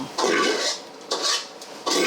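A clay cooking pot used for baking rice with bamboo shoots is handled in a kitchen. It gives three bursts of clattering, scraping contact with short pauses between them, close and fairly loud.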